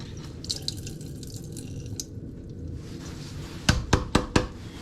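Water being added to a jar of 48-hour broccoli sprouts for a rinse: soft trickling and splashing, then a few distinct drips or knocks near the end, close and fairly quiet.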